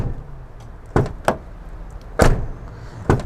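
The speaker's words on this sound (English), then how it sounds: "let's just listen to the Swedish sound of the door." The door of a new Volvo FH Aero truck is opened and shut, giving several sharp, solid thuds and clunks spaced apart, close by and fairly loud against a quiet background.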